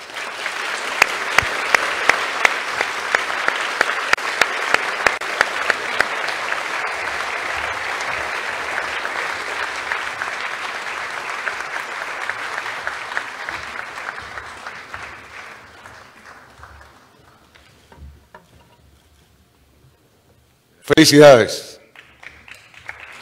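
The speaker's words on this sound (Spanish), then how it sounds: "Pues felicidades al ganador y un aplauso." At a Central American literary festival's opening ceremony, an audience applauds an award winner with a long round of clapping. Sharp individual claps stand out at first, then the applause thins and fades out. A short spoken word follows near the end.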